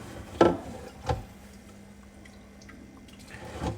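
An aquarium gravel cleaner lets water fall back into the tank, giving a few soft drips and splashes, two clearer plops early on, then quiet trickling at low level.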